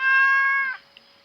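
A stray cat in the Stardew Valley farming game gives a single clear, tonal meow up close, followed by a short faint chirp, with nothing else audible.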